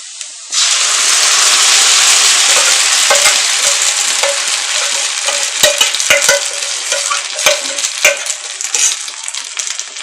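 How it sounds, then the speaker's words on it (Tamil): Ground batter stirred into golden-fried onions in a hot pan for Chettinad-style neer urundai: a loud hiss bursts in at the start, then settles into sizzling with repeated sharp scraping clicks from the spatula, no voices. "இந்த டைமில் நம்ம அரைச்சி வச்சிருந்த மாவை இதில் மிக்ஸ் பண்ணிக்க போகிறோம்."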